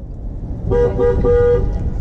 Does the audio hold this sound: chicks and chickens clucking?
no